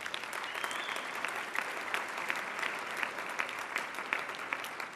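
An audience at a women's bar association installation ceremony breaks into a big round of applause, many hands clapping in a thick, continuous patter that holds steady and close for the whole stretch, with no speech.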